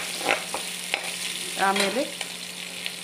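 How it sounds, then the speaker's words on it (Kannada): Ginger frying in oil in a pan while being stirred, a steady soft sizzle with a few scraping stir strokes and a brief spoken word over it. "ಶುಂಠಿಯನ್ನು ಹಾಕಿ ಈ ರೀತಿಯಾಗಿ ಮಗ್ತಾ ಇಡಬೇಕು."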